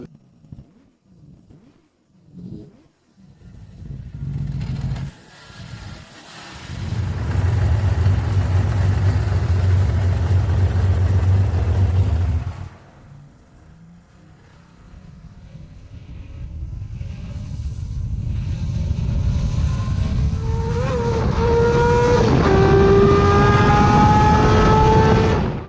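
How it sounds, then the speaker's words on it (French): A Honda CBX 1000 six-cylinder motorcycle engine blips in short revs, then roars through a sustained high rev, drops back, and climbs again through rising gears as it accelerates away, loud and close. "Et comment il sonne, c'est divin. Le son du moteur."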